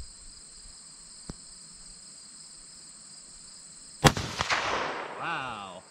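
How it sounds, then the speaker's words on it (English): A 6.5 Grendel rifle firing Sabre Black Tip ammunition at a pumpkin outdoors, one sharp loud crack that echoes and fades, heard over a constant chirping of crickets, with a faint tick earlier. "So let's place a shot on the pumpkin."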